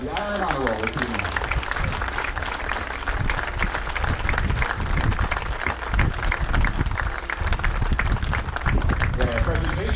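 Crowd at a summer ironman sports event applauds an honor roll inductee with loud, continuous clapping and cheering throughout, with a voice speaking over it at the start and end.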